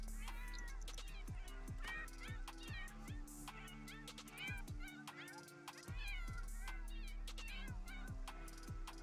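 Several cats meow repeatedly in a farming life-sim video game, high overlapping mews over steady game music, with quiet talk now and then.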